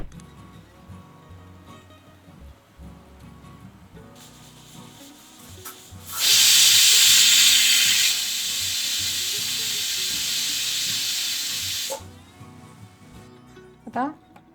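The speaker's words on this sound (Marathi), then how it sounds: "आता मी याचं झाकण प्रेशर पॅनचं लावते आणि याच्या 3 शिट्ट्या करायच्यात आपल्याला" Pressure cooker on a stove lid fitted for cooking tondli rice, venting a loud, sustained steam whistle and hiss that rises sharply, holds steady for several seconds, then cuts off, with quieter kitchen clatter before and after.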